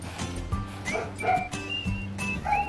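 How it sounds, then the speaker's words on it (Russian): A dog barks and yips several times in quick, uneven bursts, close by, with whiny tones between barks. "Кто там лает?"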